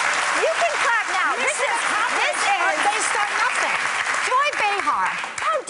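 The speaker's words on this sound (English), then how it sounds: "You can clap now." A daytime talk-show studio audience claps in a loud, continuous burst lasting several seconds, with voices and cheers rising over the dense applause.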